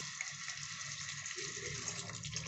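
Water runs steadily into a cooking pot for a couple of seconds, a continuous gushing pour close by with a slight shift in tone near the end.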